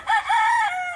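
A chicken outdoors on a chilly day gives a single close, clear crowing call of about a second, rising then holding in a drawn-out note, with no other sound around it.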